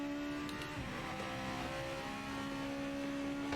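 Race car engine in Project Motor Racing drones at steady high revs through a corner, a loud continuous buzzing tone with slight pitch shifts and faint tire noise, no voices.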